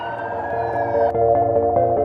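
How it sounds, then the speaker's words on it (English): An ambulance siren wails close by with a steady tonal pitch that shifts into a rapid pulsing yelp partway through, loud and alone without talk. "Vital Link ambulance on its way."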